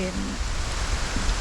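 Rain in the survival video game Project Zomboid makes a loud, even hiss that holds steady throughout, with faint low tones underneath.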